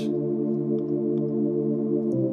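A warm, sustained Serum synth pad holds a soft chord, shifting slightly near the end, steady and smooth with no voices.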